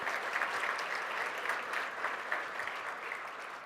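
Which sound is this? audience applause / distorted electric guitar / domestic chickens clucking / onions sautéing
audience applause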